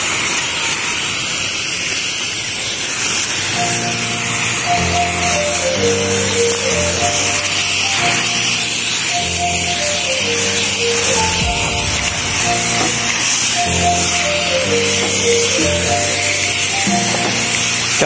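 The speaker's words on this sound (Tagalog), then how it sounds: "Tsaka maganda ka farmers gamitin ay power sprayer, dahil dito malakas, mape-penetrate na lahat, pati kalooban." A power sprayer applying fungicide to string bean plants gives a loud, continuous hissing spray that runs throughout, with music playing underneath.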